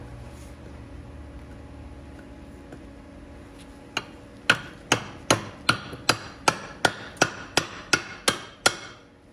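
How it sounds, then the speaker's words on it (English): Forged ball bearing knife chopping into a metal bar, about a dozen sharp, evenly spaced metallic strikes in a steady rhythm, close and crisp over a quiet hum, with no talking. "I'm gonna just try chopping some bar."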